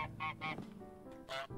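A goose honks in a video game, with several loud, close, nasal honks in quick bursts and a brief pause before a final honk.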